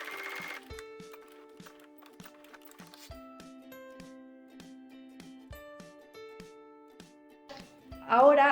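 A sewing machine runs a close edge stitch along the border of a cosmetic brush-case bag, catching the lining, in steady bursts of rapid mechanical stitching with short pauses between runs and a louder rustle at the end.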